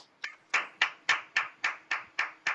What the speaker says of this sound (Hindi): तो मैं आप सभी की जोरदार तालियों के साथ इनवाइट करना चाहूंगा सिंगरौली से मिस्टर दीपक विश्वकर्मा सर को।